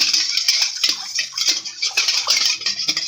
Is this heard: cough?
no